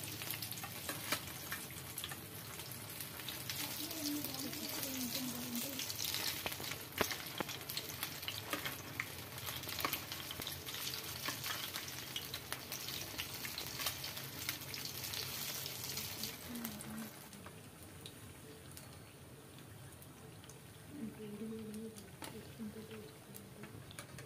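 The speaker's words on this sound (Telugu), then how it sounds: "మనం ముందుగా తయారు చేసుకున్న బ్యాటరీలో వేసుకొని కాగిన ఆయిల్లో వేసుకోవాలి" Egg bajji, batter-coated egg fritters, deep-fry in hot oil with a dense, continuous crackling sizzle that eases off partway through. A voice talks quietly over it at times.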